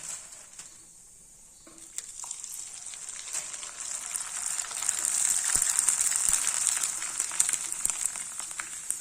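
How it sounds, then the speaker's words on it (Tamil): Sun-dried koozh vadagam frying in hot oil: a quiet start, then a broad, steady hiss of sizzling that swells and holds loud through the rest, with scattered crackles. "நம்ம இப்போ எண்ணெயில் பொறிச்சு பார்த்துடலாம்"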